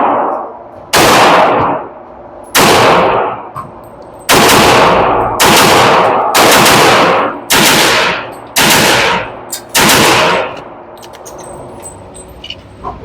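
A .45 ACP 1911 pistol fires repeated double taps at an outdoor range: about eight loud, sharp paired bursts spaced roughly a second apart, each followed by a short ringing decay, with no talking.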